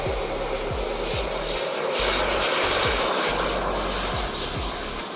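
A propeller plane takes off at an air show, its engine drone loud and steady across the whole stretch, swelling slightly toward the middle with a rhythmic throbbing low pulse.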